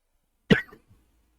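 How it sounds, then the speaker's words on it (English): A person coughs once, sharply and close to the microphone, followed by a short throat-clearing trail and then silence. "sorry for coughing to the mic."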